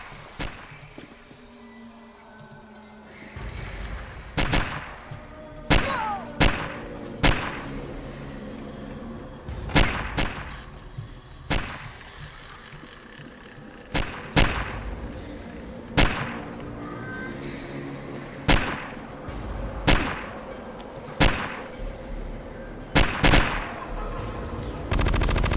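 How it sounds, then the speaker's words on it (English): Repeated gunfire from a Rugged Arms AF-55 in the Fallout Tactics video game, loud sharp bursts recurring every second or two over a low rumbling battle backdrop, with no talk. "Gunshots all over the place."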